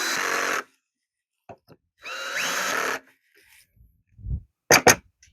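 A drill drives pocket screws into wood in short bursts, two longer whirring runs separated by silence, with small clicks and knocks between.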